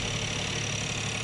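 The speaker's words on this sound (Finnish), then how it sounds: "tässä kuuluu samalla tää moottorin käyntiä, niin mikä ei ole kyllä kieltämättä kaikkein kaunein" A cold Renault Espace engine idles under the open hood, a steady, rough mechanical drone with a faint ticking knock running through it, close and continuous with no talking.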